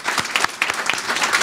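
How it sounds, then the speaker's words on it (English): A commencement crowd at a university graduation claps loudly in a round of applause for the families, dense and continuous with a few sharper individual claps standing out. "let's have a round of applause for the families"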